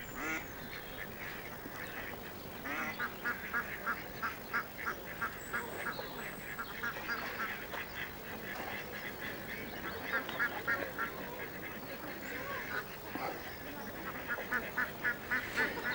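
Ducks quack repeatedly throughout, in rhythmic clusters of calls that build toward the end, moderately distant in an outdoor countryside setting, with no voices over them.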